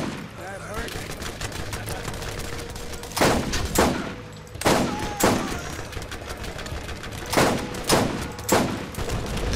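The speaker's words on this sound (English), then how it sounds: "that guy has a crazy machine gun" Bursts of machine gun fire in the video game Borderlands, loud broadband volleys repeating every second or so against steady game noise, with someone talking over it.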